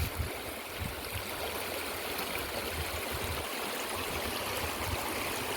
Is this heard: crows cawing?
no